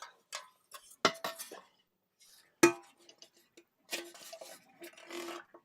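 Metal Wilton character cake pans being handled, giving a series of light clanks, taps and scrapes in short irregular bursts, close and moderately loud, with brief pauses between.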